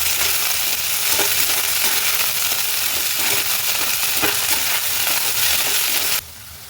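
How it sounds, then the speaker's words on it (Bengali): Okra frying in a wok gives a loud, continuous sizzle close by, with a few sharp scrapes and knocks as it is stirred. The sizzle drops to a quieter hiss at the very end. "এবার একটু ভালো করে নাড়িয়ে নেবো, ভাজা ভাজা করবো ভেন্ডিটাকে"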